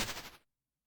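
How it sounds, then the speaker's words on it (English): Explosion sound effect in a GDevelop game: a single short, bright burst that crackles and fades out within half a second, followed by silence. "Except for the explosion. So that one's exploding."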